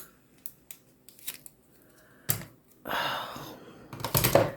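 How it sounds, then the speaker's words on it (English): Gluey scissors cutting while an Easter card is being made, with a few sparse, close snips and a burst of crisp rustling cuts near the end. "Get my gluey scissors."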